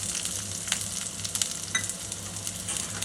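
Onion going into hot oil after mustard seeds have popped, for an eggplant and banana stir-fry, crackles in a steady close sizzle with scattered sharp pops and spits over a low hum, no voices.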